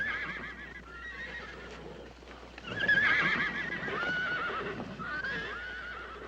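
Horses neigh and whinny repeatedly at close range, with clip-clop of hooves underneath and a louder burst of whinnying in the middle, during a WWII-era roundup of Lipizzaner horses.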